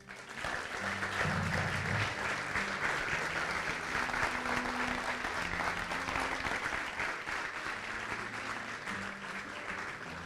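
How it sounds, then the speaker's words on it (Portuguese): A church congregation claps together in sustained, dense applause that holds steady for about ten seconds, with faint low tones from an instrument or voices underneath. "Você pode aplaudir."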